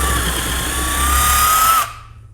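An impact driver bores a hole in wood, its steady high-pitched motor whine running loud and close for nearly two seconds before spinning down and stopping.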